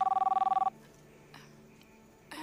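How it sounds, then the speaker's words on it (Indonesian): A telephone rings with a rapid trilling bell for under a second, then stops, leaving quiet room noise and a faint clatter. "Ada suara telepon, aku angkat telepon dulu ya."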